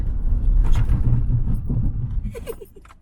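A car engine hums low and steady while driving near a village dam, fading toward the end, with brief voices and small clinks in the cabin.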